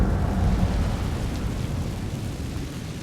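The Incendio fire spell erupts in Hogwarts Legacy as a continuous deep, rumbling roar with a crackling, thunder-like texture, holding steady and heavy for about three seconds.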